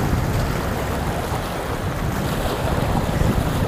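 Water rushes from the opened shutters of Bhavanisagar dam during a flood release, a loud, continuous roar with heavy wind buffeting the microphone, steady from start to finish.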